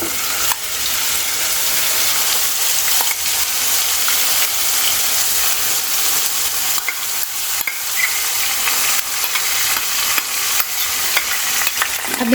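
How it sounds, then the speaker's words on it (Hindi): Asafoetida, cumin and a coarse onion, garlic and green chili paste frying in hot oil give a loud, continuous sizzle close up, with occasional stirring scrapes and small pops throughout. "अब जो हींग और जीरा रखा था वो दोनों डाल देंगे तेल में। अब साथ ही डाल देंगे जो बचा हुआ प्याज, लहसुन और मिर्च का दरदरा पेस्ट है।"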